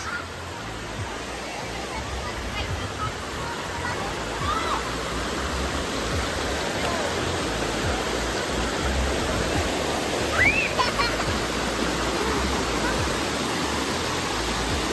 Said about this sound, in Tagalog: Ah, that's the falls.